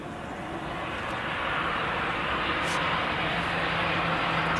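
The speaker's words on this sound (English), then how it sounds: "Aer Lingus A380 from Dublin in the rugby team livery" An Aer Lingus airliner from Dublin at Manchester Airport gives off a steady, broad jet roar that swells slightly and holds at a distance, with a faint tonal whine running through it.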